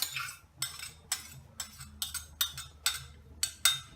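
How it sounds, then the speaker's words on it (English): A utensil stirring a boiling pot of food, giving a steady rhythm of scraping, clinking strokes against the metal roughly twice a second, close and fairly quiet. "We are stirring."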